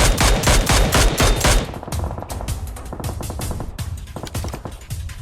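Two squads trade gunfire in PUBG Mobile: dense, loud bursts of automatic fire rattle continuously, with closer rapid volleys at the start giving way to overlapping shots at a mix of distances.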